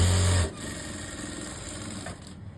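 A sewing machine stitches along the pocket edge of a pair of pants, starting with a short, loud low whirring burst that drops to a quieter mechanical hum, with no talk.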